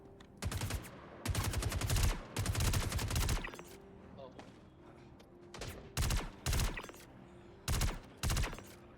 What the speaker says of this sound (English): there's some guys shooting at each other